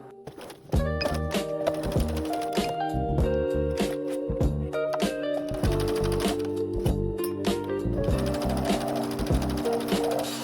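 A sewing machine stitches around a fabric bookmark square with a quarter-inch seam, giving a steady run of quick mechanical thumps, with tonal music playing throughout.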